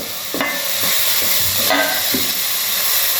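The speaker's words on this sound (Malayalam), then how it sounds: "ചതച്ച വെളുത്തുള്ളി ഇട്ടുണ്ട്. നന്നായി ഇളക്കി കൊടുക്കുക." Crushed garlic fries loudly in a hot pan, a steady close sizzle broken by several scraping strokes of a spoon stirring it around.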